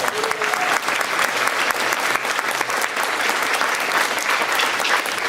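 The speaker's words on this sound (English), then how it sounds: "Can you give them a round of applause?" Audience applause fills a high school band concert hall, a steady dense wash of clapping that holds loud and even throughout with no break.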